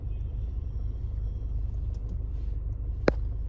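A Hyundai Creta idles with a low, steady engine rumble up close, then a single sharp click near the end.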